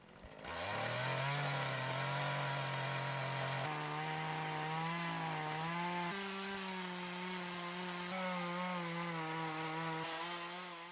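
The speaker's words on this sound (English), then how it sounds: "this is actually my very first chainsaw carving." A chainsaw roars steadily through a block of epoxy and wood during a first attempt at carving a figure, loud and close, its engine pitch shifting in steps as the cut loads and eases.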